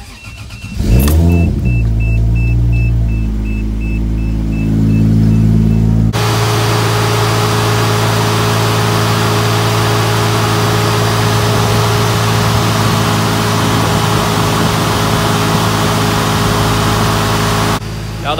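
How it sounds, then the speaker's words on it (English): A car with an Accusump oil accumulator system cranks and starts, revving briefly before settling into a loud, steady idle that runs close by for over ten seconds, then cuts off. "we're gonna go ahead and start the car up"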